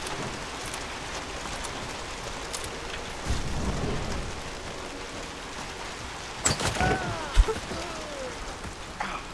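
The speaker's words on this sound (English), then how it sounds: "Oh, heavy rain." Heavy rain and thunder in the video game Hunt: Showdown, a steady dense hiss of rainfall with low thunder rumbles swelling around the middle and a sharper crack near the end.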